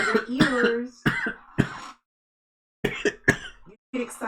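A person coughs and clears their throat in several harsh, close bursts, with a brief silence in the middle and then more rough coughs.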